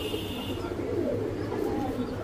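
Domestic pigeons in a breeders' loft coo in low, soft, rolling murmurs that run steadily through the moment, with a few faint chirps above and no voices.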